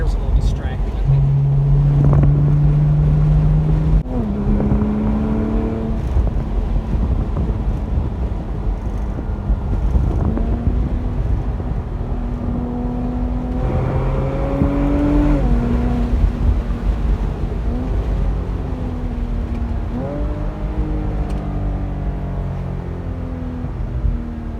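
High-mileage Porsche after a Seafoam treatment, heard driving with steady engine and road noise throughout; gear changes rise and fall in pitch while wind buffets the microphone.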